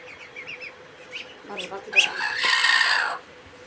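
A hen that has been laying eggs gives a few short clucks, then a loud, drawn-out squawking cackle, heard close up.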